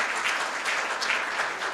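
Applause from an audience at a Korea University law school ceremony as an emeritus professor arrives, a dense steady wash of many hands clapping, close and continuous throughout.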